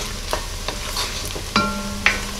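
Onion, garlic and bacon sizzle in a pot for corn chowder while a spoon stirs and scrapes in a few distinct strokes, close and fairly loud, with no talking.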